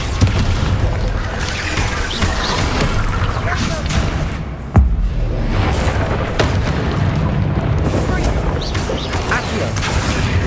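A Descendo spell slams down in the Hogwarts Legacy video game with one sharp, heavy impact midway, set in a loud, continuous din of in-game rumbling and clattering combat effects.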